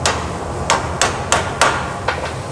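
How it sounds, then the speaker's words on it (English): Hammer tapping steel knuckle pieces for a Nissan 350z into place before welding: six or seven sharp metallic strikes at an uneven rhythm, close and loud, with no talking. "Oh, that's where the hammer comes in handy."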